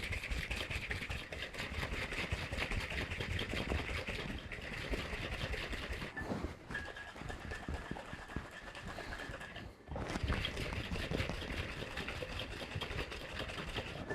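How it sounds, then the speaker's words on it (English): A cocktail shaker gets a vigorous dry shake to emulsify egg for a Midori Sour, a fast continuous rattling churn that runs steadily with a couple of brief pauses. "then we're gonna add this to this and give it a nice dry shake to emulsify the egg"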